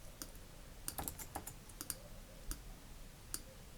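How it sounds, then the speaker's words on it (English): Computer keyboard keys pressed during Adobe image editing, a sparse series of crisp separate clicks, close and fairly quiet, with no talk. "I hit O on my keyboard just to get the reflection tool up"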